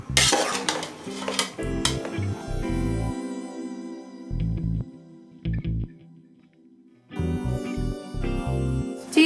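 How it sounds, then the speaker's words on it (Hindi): Tomato ketchup ingredients stirred in a metal pot with chopped red chillies and salt: scraping, clanking spoon-on-pot strokes in uneven bursts, near and fairly loud, with a quiet pause midway before stirring resumes. "अच्छी तरह से मिक्स कर लें"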